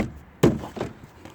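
A sharp plastic thunk followed by a second softer snap, close up, as a door panel clip is pressed into the front door of a 2008 Honda Accord.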